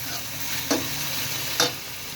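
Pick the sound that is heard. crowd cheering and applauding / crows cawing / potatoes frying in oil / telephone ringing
potatoes frying in oil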